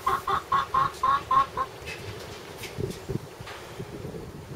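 A hen clucks in a chicken coop while searching for a spot to lay an egg, a quick run of close, rhythmic clucks followed by softer scattered sounds over wind noise.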